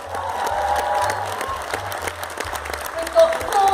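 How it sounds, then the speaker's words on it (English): Crowd at a Labour Live rally applauding as people are welcomed onto the stage, a sustained wash of clapping with a low musical hum and scattered voices underneath. "Big round of applause, everyone."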